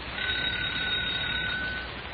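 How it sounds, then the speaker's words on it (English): A steady electric doorbell ringing in an old-time radio drama set in Fort Worth, Texas, heard as a continuous buzzing ring lasting about two seconds over the hiss of an old recording. "The doorbell is ringing."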